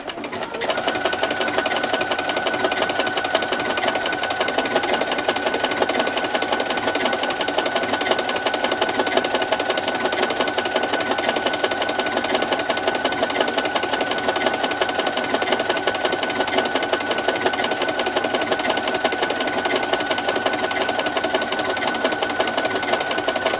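A sewing machine stitching continuously, its rapid mechanical whir and needle chatter running evenly and nearby for the whole stretch, with no talking.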